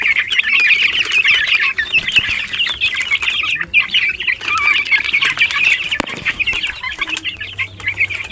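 Gamefowl chicks about a month old clucking and peeping steadily in a busy chorus, with occasional soft wing flaps and scuffling, close and fairly loud.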